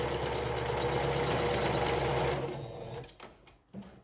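A sewing machine stitches patchwork fabric for a table runner, a steady fast mechanical whirr that runs close and loud, then slows and stops, followed by faint handling noises.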